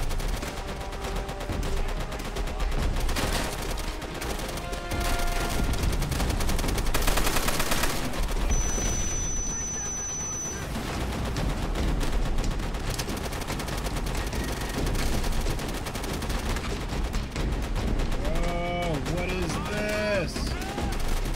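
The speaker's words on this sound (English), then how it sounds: "guy just keeps on shooting his MG" Sustained machine gun fire in Call of Duty: World at War rattles on through a dense battlefield mix of shots, music and effects, with talk underneath.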